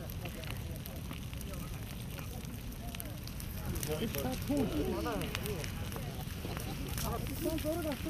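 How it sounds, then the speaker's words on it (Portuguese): A controlled burn moves slowly against the wind through a pine forest, giving a steady crackle and rush under wind noise, while a narrator speaks over it throughout. "o fogo controlado é demonstrado num pinhal, sempre lentamente contra o vento"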